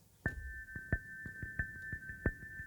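A quiet synthesized sequence of short percussive pulses under a sustained high tone, ticking along in an uneven rhythm.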